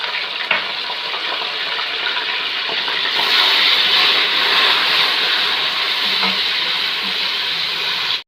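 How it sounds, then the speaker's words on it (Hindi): Beef frying in a pan with a little water added for Hyderabadi biryani gives a loud, continuous sizzle and hiss that surges briefly, then crackles steadily close up without talk. "और साथ ही हरी मिर्च और टमाटर डालते हैं, और गोश्त को भून लेते हैं।"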